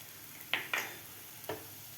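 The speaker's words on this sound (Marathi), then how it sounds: "ते मसालेसुद्धा आपल्याला व्यवस्थित परतून घ्यायचे आहेत 1 मिनिटभर खालच्या बेसन आणि कांद्यामध्ये" Spices are stirred into besan and onion in a pan, with a faint sizzle under a few scraping stirs of a spoon. Two close scrapes are followed by a softer one.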